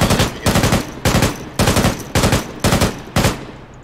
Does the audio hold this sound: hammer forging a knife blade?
no